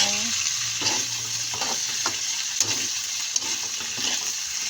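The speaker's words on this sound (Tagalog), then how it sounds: "Kiwar-kiwaran ang ating adobong sitaw." Adobong sitaw, string beans with tofu, onion and a little pork fat, is stirred as it fries in a pan. The sizzle is loud and constant, and scraping utensil strokes recur throughout.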